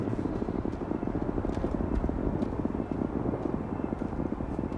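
A spaceship engine in the video game Starfield blasts out a steady, loud, roaring rumble that stays even throughout, with no voices over it.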